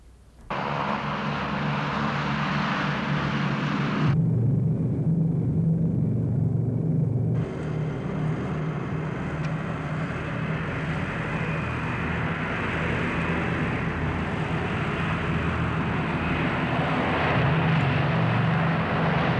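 Aeroplane engines drone in a steady, loud, continuous rumble that runs without a break, its roar briefly duller for a few seconds before returning to full strength.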